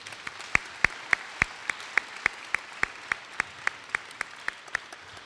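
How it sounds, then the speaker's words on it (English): Audience at a middle school awards ceremony claps for students in a slow, even rhythm, sharp individual hand claps in a reverberant room, fairly distinct and spaced steadily. "Let's give all those students a round of applause again."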